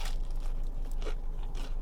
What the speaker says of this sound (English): They're pretty crispy and crunchy, as you could hear.